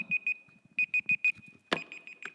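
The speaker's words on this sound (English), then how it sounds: "that's my alarm, so I got to stop" An alarm clock beeps in quick bursts of rapid, high-pitched tones, repeating in clusters, close and loud.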